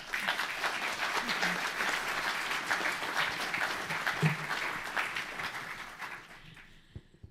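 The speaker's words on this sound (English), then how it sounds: "Can you give him a round of applause?" Audience applause at a church general assembly session, a steady crowd of clapping hands lasting several seconds before fading away.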